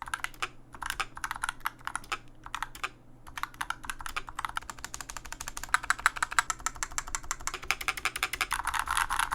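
Rapid typing on a custom mechanical keyboard fitted with cut plastic foam inside the case, a dense close run of keystroke clicks that starts hesitant then speeds into continuous clatter, no voices.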